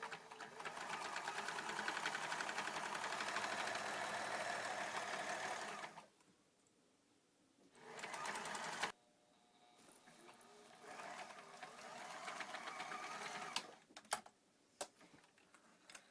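Sewing machine running a zigzag stitch along the folded inside edge of a shirt, a loud steady whir for about six seconds, then a short burst and quieter intermittent ticking with no talk.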